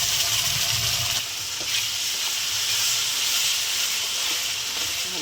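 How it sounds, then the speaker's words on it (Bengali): Onion, ginger-garlic paste and tomato fry in a pan for mutton biryani. A continuous hissing sizzle runs throughout, with occasional soft stirring knocks, close and fairly loud. "পেঁয়াজটা ভেজে নেব"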